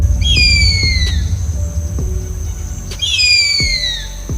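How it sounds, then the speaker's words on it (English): A large harpy eagle gives two thin, high whistled calls that slide downward, separated by a pause of a couple of seconds, over a low background rumble and a few faint knocks. "Big harpy eagle."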